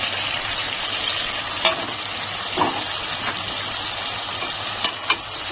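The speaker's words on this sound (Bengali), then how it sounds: "এখন আরো ভালো করে নেড়ে দেবো।" Chicken in a yogurt gravy frying in a pan, a constant bright sizzle with a few scattered scrapes and taps as it is stirred, close up and with no talking.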